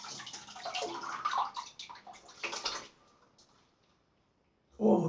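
A cold water tap runs into a basin during a wet shave with a Merkur 700002 safety razor, a splashing rush that fades to a quiet trickle, then a brief burst as the flow returns.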